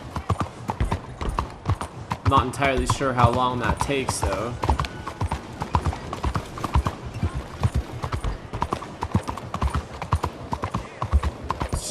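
Steady clip-clop of a horse's hooves as it is ridden through a town in Red Dead Redemption 2, the rhythmic beat running under ongoing conversation for the whole stretch.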